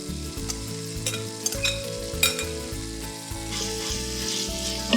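Onions, spices and chilli frying in a pot with a splash of stock, ready for beef: a loud, continuous sizzle with repeated spoon scraping and stirring knocks, no talking.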